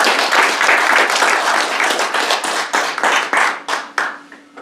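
A lecture audience at a Korean organization's executive inauguration ceremony bursts into loud, dense applause that holds strong for several seconds, then thins into scattered claps and fades out.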